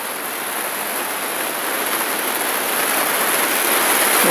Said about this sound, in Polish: Przelotny deszcz.